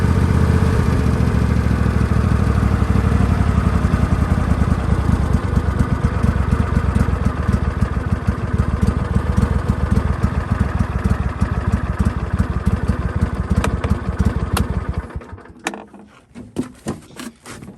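A John Deere tractor engine idles low on a cold winter day, a close, loud, rough diesel chug with steady rapid knocking that runs evenly, then cuts off near the end and leaves faint sputters and clicks.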